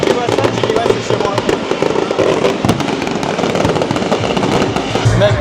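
Fireworks burst continuously at a loud outdoor display with a helicopter passing overhead, booms and crackles overlapping densely with steady crowd noise underneath.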